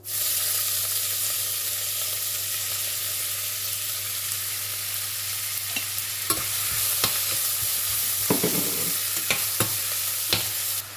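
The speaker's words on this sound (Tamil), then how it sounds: "வெங்காயத்தில் உப்பு போட்டு நல்லா வதக்கிக்கலாம்" Salted onions sauté in oil with fennel and whole spices for a Chettinad vada curry, giving a constant close sizzle broken by scraping stirs and taps from the spoon.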